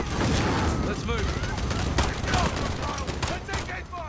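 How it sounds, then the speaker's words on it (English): Sustained rapid gunfire in a film scene of a police shootout, with dense overlapping shots and booms filling the scene while voices shout over the noise. "I was just firing into the smoke."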